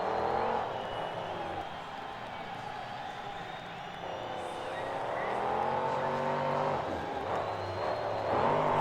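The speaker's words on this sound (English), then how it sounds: "Once again, another truck going to that van stack to start off." A monster truck engine revving in a 2008 Jacksonville arena show as the truck heads for a van stack; loud sustained engine roar with rising and falling pitch over a distant crowd.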